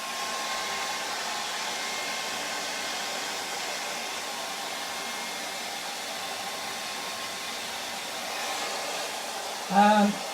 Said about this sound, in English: have a hairdryer strapped to the shoulder to dry the paint as they paint